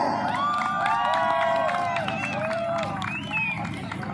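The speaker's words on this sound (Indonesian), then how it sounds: "tepuk tangan yang meriah dulu" Lively crowd at a 2022 regional arts and culture festival in Bengkulu Tengah cheering and shouting, with children's voices and some clapping, loud and continuous, an announcer's voice mixed in.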